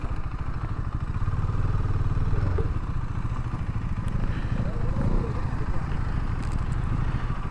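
A group of motorcycles on an Independence Day ride rumbles and idles close by, a continuous throbbing engine drone with clatter as bikes pull up and stop, while people talk under the noise.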